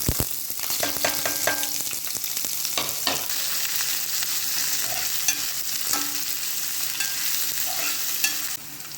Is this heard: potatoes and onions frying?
yes